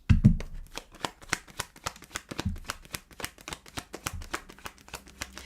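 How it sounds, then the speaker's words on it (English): Oracle card deck being shuffled, a rapid run of crisp riffling card snaps with steady rhythm, close and clear with no talking. "as I'm shuffling the other Oracle card deck"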